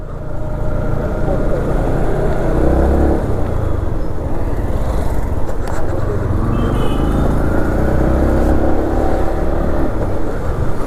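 A Yamaha MT 15 motorcycle ridden out with friends: a steady, loud engine drone mixed with rushing wind noise runs throughout, close to the rider and without a break.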